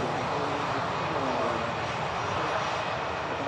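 EasyJet airliner bound for Jersey at Manchester Airport, a steady broadband jet roar filling the whole stretch at constant loudness, moderately distant with no break.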